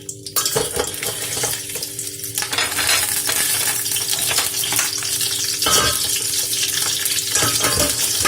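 Crabs being put into an aluminium cooking pot, loud clattering, scraping and splashing with sharp knocks throughout, no talk.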